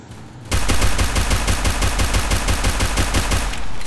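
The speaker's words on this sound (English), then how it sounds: "someone is shooting you!" Rapid machine-gun fire in the game Garena Free Fire starts abruptly after a short lull and continues as a steady, loud, evenly spaced stream of shots.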